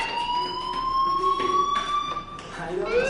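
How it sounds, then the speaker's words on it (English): A loud electronic fire alarm tone in a video game, Life Is Strange, wails continuously, its pitch creeping upward, with faint voices murmuring underneath. "do you hear that fire alarm? That means you should be outside."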